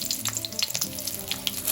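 Green chilies and popped mustard seeds sizzling in hot coconut oil, a steady crackling fry with sharp spattering pops throughout, close and alone.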